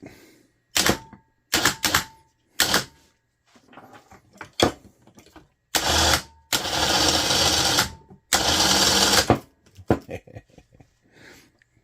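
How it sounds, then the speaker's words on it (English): A DeWalt battery-powered winch on a RUGCEL tank, worked by remote, whirs in short mechanical bursts, then in two longer runs of a second or so, with faint clicks and clunks between. "Dewalt battery winch. Flip that switch."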